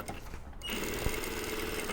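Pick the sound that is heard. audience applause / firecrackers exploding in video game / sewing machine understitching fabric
sewing machine understitching fabric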